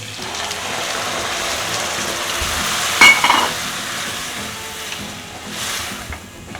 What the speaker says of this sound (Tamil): இப்போ மில்க் ஊற்றணும்.